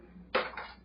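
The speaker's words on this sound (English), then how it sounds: "I was using my whisk." A metal whisk knocks once against a cooking pot, a short sharp clink with a brief ringing tail, close and alone.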